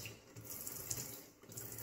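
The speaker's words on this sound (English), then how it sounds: "just add water and work it through the hair" Faint, steady running water from a tap used to wet hair while styling wavy hair, a soft continuous hiss with no talking.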